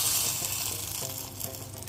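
Steady, bright sizzling of garlic tempering in hot desi ghee, a dense crackling hiss that stays loud and close throughout.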